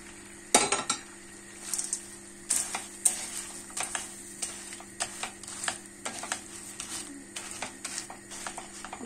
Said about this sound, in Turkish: Bu şekilde kavuracağım arkadaşlar.